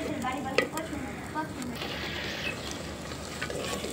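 Turmeric, chili and coriander powders are stirred and fried in a clay pot, with a steady soft sizzle and occasional scraping knocks. A faint voice is present in the background.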